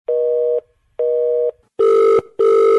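Telephone ringback on a call to a radio station, four long regular tones with short gaps, the later two louder and brighter, close and clear with no talk.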